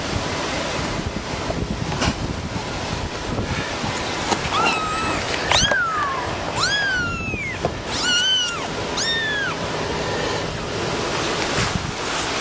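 Several kittens let out high, rising-and-falling meows, a cluster of about five cries mid-clip, close but partly buried under heavy wind rumble and outdoor noise.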